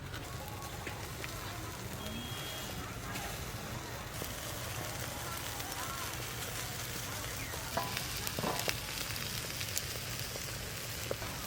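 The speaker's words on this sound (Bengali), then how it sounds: "এইভাবে উল্টে পাল্টে সবগুলো ভালো করে সেঁকে নেব।" Chicken tikka kebab pieces with capsicum, onion and tomato roast over fanned charcoal, giving off a continuous soft sizzle and crackle with occasional sharper pops and no voices.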